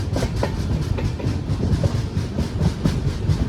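A Guntakal–Coimbatore passenger train, 16381, heard from a general coach, rolling along the rails, loud and steady rumble with rhythmic clickety-clack beats repeating throughout.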